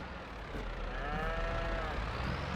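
Cattle in the video game Farming Simulator 22 let out a long, loud, close moo that swells and holds, with a lower lowing voice underneath and no speech.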